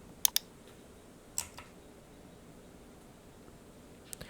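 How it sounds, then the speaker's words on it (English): Mouse clicks on an Export button in Premiere Pro: a quick double click, then a couple of single clicks seconds apart over faint background hiss, with no voice. "then just click on Export."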